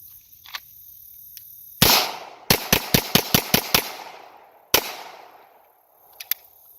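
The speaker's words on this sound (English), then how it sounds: "now I'm just going to try some rapid fire shots here." A Beretta M9A3 9mm pistol fires one sharp shot, then a quick string of six evenly spaced shots, then another single shot, loud and close, with a faint pair of distant pops near the end.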